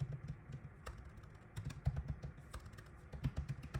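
Fingers tap quickly at a computer keyboard, a soft, quiet run of uneven clicks at close range with no talking.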